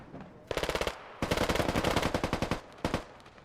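A PPSh submachine gun fires in the video game Squad. It lets off a short rapid burst, then a longer sustained burst of rattling automatic fire, and ends with a few final shots. The gunfire is close and sharp.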